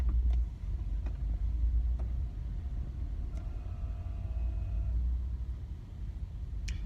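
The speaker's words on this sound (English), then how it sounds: "I'm just stuck in traffic." Low, steady car engine rumble in slow traffic, heard from inside the car, quiet and continuous with a few faint clicks and tones over it.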